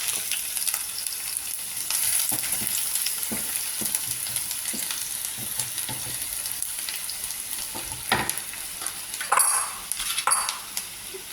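Onion frying in butter in a pan, a quiet steady sizzle with scattered clicks and scrapes of stirring against the pan.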